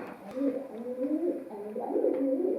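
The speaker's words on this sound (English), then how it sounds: "There's the pigeon making noises" A pigeon coos continuously in low, rolling, throaty phrases, close by, with faint background noise.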